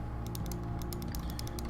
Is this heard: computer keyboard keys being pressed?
yes